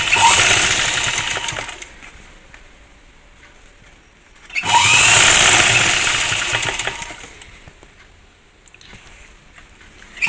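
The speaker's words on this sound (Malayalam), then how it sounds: "ഞാൻ കൈയുടെ അടിഭാഗമല്ലേ ചെറുതായിട്ടൊന്ന് മടക്കി അടിക്കുന്നുണ്ട് കേട്ടോ." A sewing machine stitches a small folded hem at the bottom of a frock sleeve. The motor whirs close and steady in two runs, one near the start and another from the middle, each easing off into quieter pauses.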